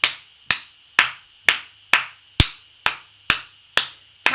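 Sharp hand claps in a music lesson rhythm exercise, ten crisp near claps at a steady pulse of about two per second, each with a quick decay, no talking.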